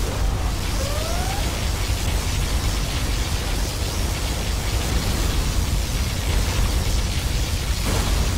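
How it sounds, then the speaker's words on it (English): A loud, sustained roaring blast of a particle cannon firing in the video game Command & Conquer Generals Zero Hour, with a noisy, rushing texture, steady throughout, preceded by a brief rising electronic whine. "Our particle cannon has been activated."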